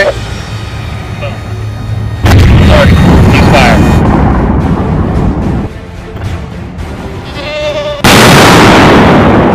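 A military artillery gun fires twice, each shot a loud, sudden boom followed by a sustained roar, with voices speaking between the shots.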